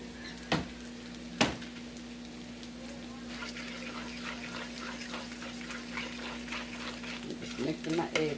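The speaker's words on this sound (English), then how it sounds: "Mixing my eggs up" Eggs being whisked in a bowl for a breakfast of potatoes and eggs give a wet, rapid stirring and sloshing sound. Two sharp knocks come near the start, with a steady kitchen hum underneath and busier mixing toward the end.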